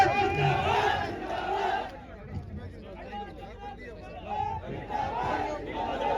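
A crowd at an RLP political rally for Hanuman Beniwal in Chohatan roars out loud chanted slogans, swelling and falling in waves, with voices mixed through the din.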